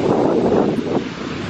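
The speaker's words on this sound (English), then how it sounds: "I don't think you can hear me because the wind" Strong wind buffeting the microphone on a Pacific Ocean beach, a constant loud rushing roar with surf blended in, no voices.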